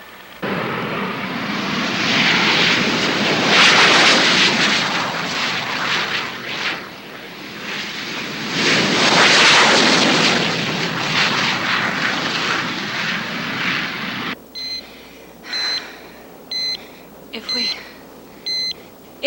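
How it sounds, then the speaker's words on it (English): Military jet aircraft roar loudly and steadily as they scramble, the engine noise swelling twice, then giving way to a series of short electronic beeps near the end. "Stand by to scramble aircraft."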